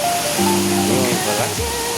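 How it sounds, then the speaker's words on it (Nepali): Rushing water from the Fyangdeng waterfall fills the scene as a steady broadband roar, with faint tonal sounds and a brief voice-like murmur over it. "यस्तो बबाल झरना रहेको छ।"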